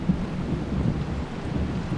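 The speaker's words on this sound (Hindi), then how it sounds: "बारिश भी रुकने का नाम नहीं ले रही है।" Heavy rain and a thunderstorm rumble through a continuous low, dense roar with no clear breaks, steady and fairly loud, without any talk over it.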